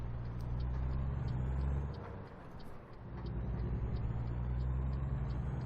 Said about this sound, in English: The engine sound is quite nice as well.